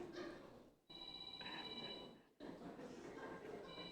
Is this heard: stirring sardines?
no